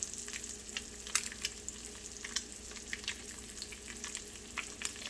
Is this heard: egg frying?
yes